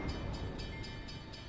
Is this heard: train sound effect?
yes